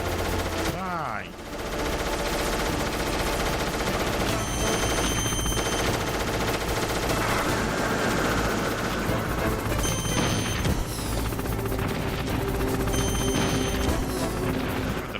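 Gunfire in the Metal Gear Solid video game: dense, repeated shots and bursts under loud game music and effects, with a voice speaking in places.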